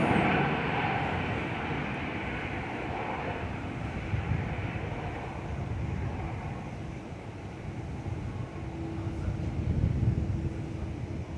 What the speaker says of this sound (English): Really poor landing, actually. Really bouncy from the 737-800.